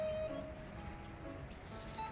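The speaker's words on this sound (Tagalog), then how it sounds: "Ang ibon, dami kasing ibon lumilipad-lipad." Birds chirp outdoors with thin, high tweets and calls at a moderate distance over a steady background hum, and no voices.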